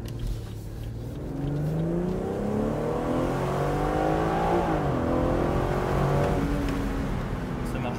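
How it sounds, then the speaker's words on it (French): A BMW 440i with a 3.0-litre engine in sport mode, heard from inside as the engine note rises and falls with a quick throttle blip during steady driving, moderately loud with faint voices. "T'entends le petit. Ouais, que ça fait un petit coup d'accélérateur."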